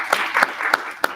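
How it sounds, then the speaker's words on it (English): Brief applause at a startup accelerator graduation event, four distinct sharp claps spaced roughly a third of a second apart over a soft background wash, loud and close. "big round of applause"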